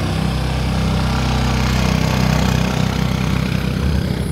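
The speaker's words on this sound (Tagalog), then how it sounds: "Buti na lang may isang malakas na motor." A motorcycle engine labors up a steep uphill road, a loud, close, steady droning rumble that holds under load throughout without pause.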